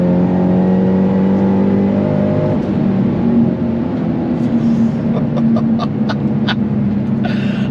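A Ford Shelby GT500 Mustang (S197) pulls hard on throttle, its engine roaring close and loud with rising revs, followed by a series of short sharp clicks or ticks near the end.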